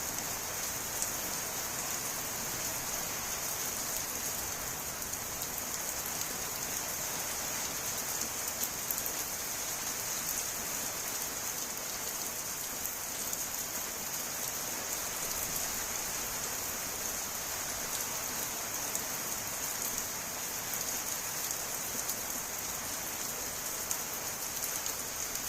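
Heavy rain comes down before the wheat harvest, a steady broadband hiss of drops on surfaces that holds constant and close throughout, with no voices.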